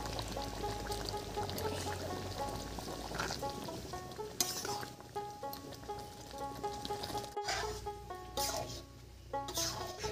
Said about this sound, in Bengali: এবারে হলুদ দেব, আর হলুদটা আমি একটু জল দিয়ে গুলে নিয়েছি।